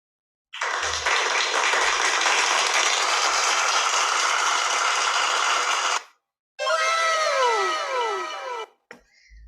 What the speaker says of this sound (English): I want to pause at this point and give you guys a round of applause because you're doing so well